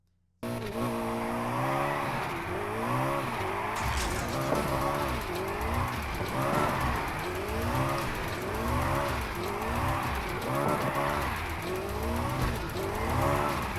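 BMW M4 GTS with a 3.9-litre twin-turbo V8 and five-speed gearbox drifts in NFS Heat, engine revving and wavering continuously while tires squeal, loud and close throughout.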